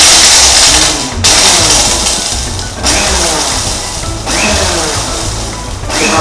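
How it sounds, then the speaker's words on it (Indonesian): A blender grinds dates and date seeds, loud and continuous, with its pitch rising and dropping in several bursts as the hard seeds knock around the jar. "saya pakai"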